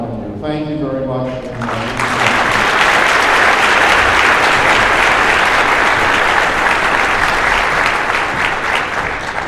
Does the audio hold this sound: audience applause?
yes